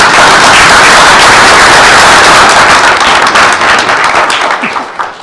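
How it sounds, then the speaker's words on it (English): Loud, close applause at a school board meeting, a dense burst of many hands clapping steadily for several seconds before tapering off and fading at the end. "So let us give both of them a round of applause."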